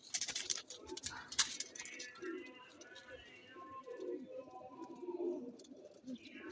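Flying pigeons cooing softly in a breeder's loft, low murmuring coos beneath someone speaking close by, with some light clinking at the start.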